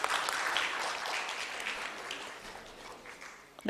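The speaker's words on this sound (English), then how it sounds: "Can we have a round of applause, please?" Audience applause at a Delhi Pharmaceutical Science and Research University ceremony: a steady, dense wash of many hands clapping at moderate distance, holding evenly for several seconds before cutting off abruptly.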